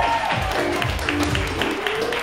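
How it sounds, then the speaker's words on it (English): Audience applause at the Firehouse Lounge during an evening event, a steady mid-distance wash of clapping with a few voices mixed in, continuing evenly throughout. "Let's give a round of applause for the Firehouse for hosting tonight."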